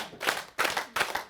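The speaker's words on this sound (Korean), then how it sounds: "박수 5번 시작!" An audience at a village lecture claps in unison, giving three sharp, evenly spaced bursts of hand-clapping that are close and loud with brief gaps between them.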